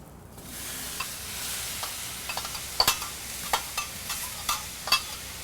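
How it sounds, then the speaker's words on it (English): Pineapple sizzles in canola oil on a hot flat-top griddle, a steady faint fizz broken by a run of sharp pops and crackles that grow more frequent toward the end. "lay down a little bit of canola oil on the griddle here on the flat top"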